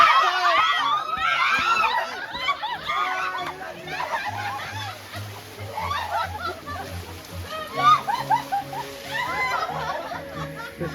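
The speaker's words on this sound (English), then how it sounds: "And here they are playing in the water." Water splashes and sloshes in a river while several people shout, laugh and chatter excitedly nearby at a campsite.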